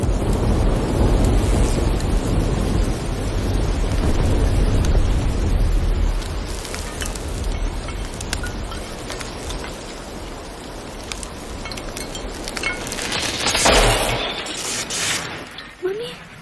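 A thunderstorm strong enough to cut the power pours down as dense rain and wind roar, loudest at first and then easing, with a heavier rumbling burst toward the end.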